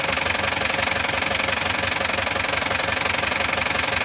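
A JMC 14-foot truck's engine idles close by with a steady, rhythmic knocking rumble and even vibration throughout, with no voices over it.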